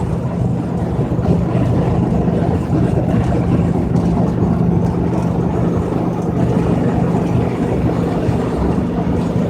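Van bus with a pancake engine climbing a hill at about 49 mph, a steady loud droning engine rumble with road noise, heard from inside the cabin with no speech.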